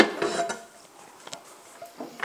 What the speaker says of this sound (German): Dann hole ich mal die Pfanne und dann zeigen wir euch das.